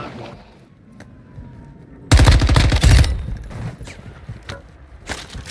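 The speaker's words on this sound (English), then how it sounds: "We got shooting at aquarium." Gunfire in DMZ, a first-person shooter, with a sudden loud burst of rapid automatic shots in the middle, followed by scattered single cracks and more distant shots over a quiet background.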